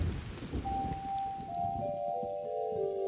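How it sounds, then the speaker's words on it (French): Soft rain patters close by, joined by a few gentle sustained musical tones that rise in and linger over the drizzle. "encore une fois, il se mettait à pleuvoir sur la campagne"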